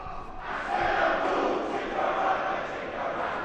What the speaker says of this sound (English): I like this cheer, the boom chicka boom.